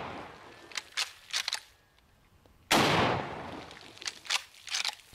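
A Mosin rifle fires once outdoors on a ranch, a loud sharp crack trailing off into a long echoing decay, set between crisp metallic clicks and clatter from handling the bolt.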